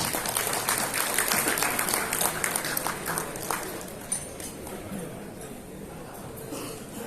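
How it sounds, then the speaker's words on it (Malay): Hall applause for a guest at a National Entrepreneurs Day ceremony, a dense burst of clapping that thins out and fades after about four seconds, leaving quieter room noise. "Sila beri tepukan kepada beliau."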